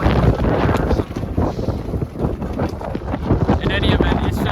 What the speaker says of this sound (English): it's just really windy right now